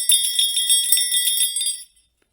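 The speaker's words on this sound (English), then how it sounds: "They pranced and paced, ringing the silver sleigh bells that hung from their harnesses." Silver sleigh bells on reindeer harnesses jingle in bright, rapid shimmering bursts, loud and close, then fall silent after about two seconds.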